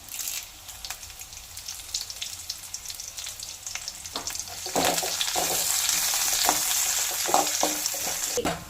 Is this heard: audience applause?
no